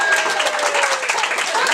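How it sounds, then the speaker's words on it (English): Audience applause at a comedy night, a brief, dense burst of clapping and crowd noise at a steady level with a faint voice running underneath. "Round of applause to Yellow Hats"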